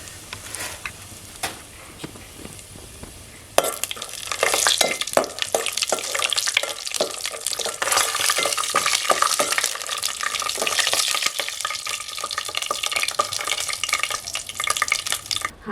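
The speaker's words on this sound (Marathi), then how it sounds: "तेल गरम झालेलं आहे तर सगळ्यात पहिला शेंगदाणे आपण फ्राय करून घेणार आहोत" Peanuts fry in hot oil for kande pohe over a village wood-fired stove, a quiet start giving way at once to a loud, dense crackling sizzle with stirring scrapes that carries on steadily to the end.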